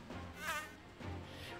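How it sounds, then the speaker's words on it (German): A buzzing fly from the video game Digimon Survive drones in soft, wavering passes, rising and falling in pitch as if circling close by, quiet and with no one talking. "Weil es klingt so realistisch, dieses Fliegengeräusch"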